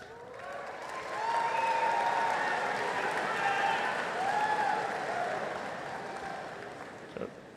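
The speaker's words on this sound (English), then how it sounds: "Well, there goes that applause thing." Audience applause at Colorado State University's 2016 Ram Welcome Convocation, a broad, steady wash of clapping that swells after the first second and holds at moderate loudness through the hall, with a murmur of voices mixed in.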